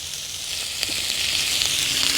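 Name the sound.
bacon and eggs sizzling in a cast iron skillet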